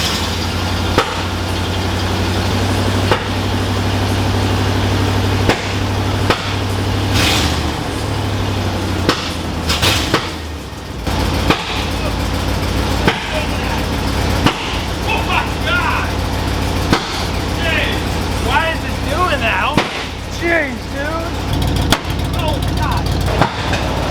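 A 1986 Ford F250 truck with a custom exhaust runs with a low, steady engine rumble. Sharp pops and cracks repeat through the sound, and people talk throughout.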